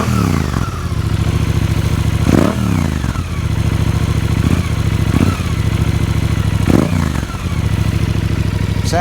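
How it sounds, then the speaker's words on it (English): A Suzuki GSX-8S motorcycle idles with a loud throbbing exhaust note, baffle fitted, blipped into short sharp revs about four times, up close with nobody speaking. "let's just see what it sounds like with exhaust."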